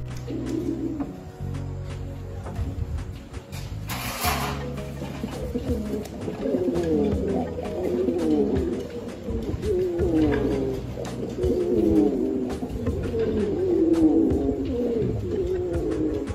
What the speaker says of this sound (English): Now you are watching sky blue bar color Gorgureo Spanish Pouter Pigeon